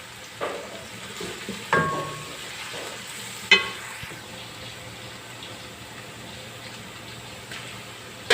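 Fish pieces fry in hot oil in a pan, giving a steady soft sizzle and crackle with occasional louder pops and spatters, close and continuous with no talk.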